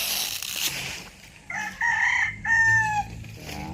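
5K Sweater gamefowl chickens cluck and a rooster crows nearby, giving a loud clear crow in the middle among short clucks with no talking.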